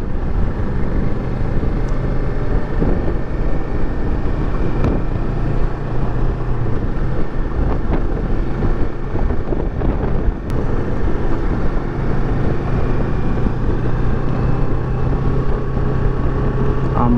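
A steady engine drone with rushing wind noise, continuous and close, recorded while riding a 2018 Kawasaki Versys 650 ABS motorcycle at speed.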